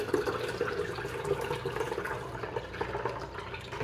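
Blix chemical pours out of a film developing tank during home C-41 color processing, a continuous splashing, gurgling rush of liquid at moderate level.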